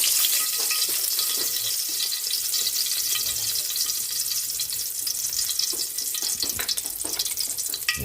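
Fish frying in hot oil, a loud, steady hiss and crackle of sizzling that carries on throughout with no talk.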